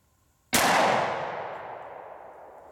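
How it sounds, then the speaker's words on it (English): A single loud 180 gr FMJ pistol shot from a 10mm Auto or .40 S&W cracks sharply at close range and rings out in a long decaying tail. "I'll be shooting the remaining two rounds from this magazine"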